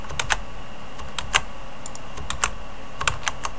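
Keys clicking on a computer keyboard as numeric values are entered into Skeinforge 3D-printing software, a close run of irregular, crisp keystrokes over a steady background hum.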